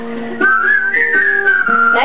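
Whistled song melody, a sustained tune with gliding pitch and a few short phrases over about two seconds, close and clear, practised as part of a song.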